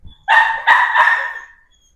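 Two or three sharp, loud dog barks in quick succession, close by, with a brief yelp-like tail and no talking.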